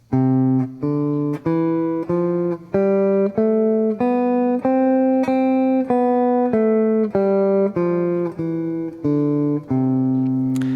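Guitar scale exercise played with strict alternate picking, one note per pick stroke: a steady run of evenly spaced plucked notes climbing and then descending, close and clear with no talking.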